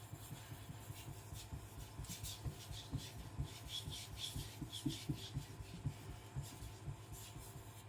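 A Sakon Ryuga gyuto knife is drawn back and forth over a fast-cutting whetstone under light pressure, giving a steady, close rhythmic rasping scrape that repeats throughout with no talking.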